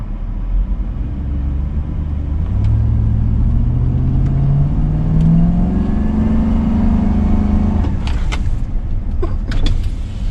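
Car engine straining in second gear with traction control off, a loud steady rumble whose pitch slowly climbs as it revs, followed by a few sharp clunks and clicks near the end.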